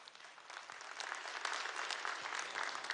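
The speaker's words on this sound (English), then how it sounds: "Please give a big round of applause for everybody tonight." Steady audience applause fills a gala dinner hall in Kuala Lumpur, a dense, continuous patter of many hands clapping that swells slightly and holds throughout, with no voices over it.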